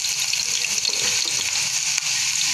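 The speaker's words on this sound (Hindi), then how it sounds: "थोड़ी थोड़ी डाल के फ्राई कर रही हूँ मैं ताकि अच्छी फ्राई हो" Long-cut homemade potato chips fry in hot oil, a dense, even hiss and crackle that runs steadily throughout, close and fairly loud with no talking.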